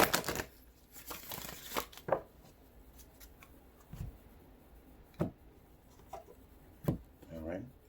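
Tarot cards being shuffled and the deck cut by hand, soft quiet riffles and taps in short separate bursts with pauses between, close and faint.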